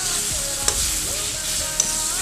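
Spice paste fries in oil over a high flame, a steady close sizzle with a couple of sharp spatters and scraping stirs, and no one speaking.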